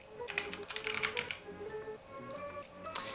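Typing on a computer keyboard, a close, brisk burst of clicking keystrokes in an uneven rhythm with short pauses, over a faint steady background tone and no talk.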